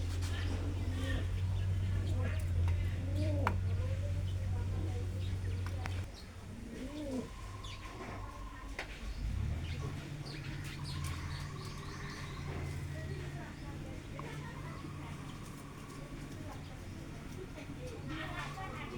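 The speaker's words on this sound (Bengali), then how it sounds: "কোয়েল পাখিগুলো।" Quail call from a coop beside a pigeon loft, with soft chirps and cooing over a steady low hum while someone talks nearby.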